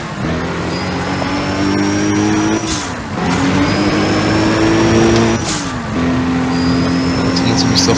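An underpowered car races in Need For Speed: Pro Street on PS3, its loud engine revving up in repeated rising pulls broken by quick gear-shift dips, with a thin whine above.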